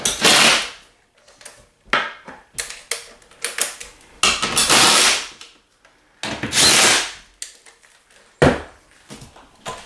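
Bursts of a power driver tightening bolts on a Cheetah APTMSB TV wall mount, several loud whirring runs of a second or so separated by short pauses and clicks, close up with no talking.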